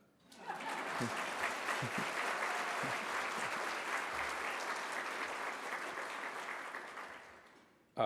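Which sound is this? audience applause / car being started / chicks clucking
audience applause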